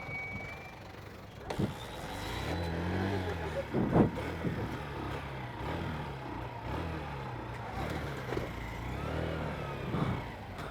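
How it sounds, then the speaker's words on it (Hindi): A Honda Shine 100 DX motorcycle is kick-started, with a couple of sharp mechanical thumps followed by a low, rough engine chug that sputters in uneven pulses nearby. Someone talks over it. "तो अगेन मुझे किक से स्टार्ट करनी पड़ेगी।"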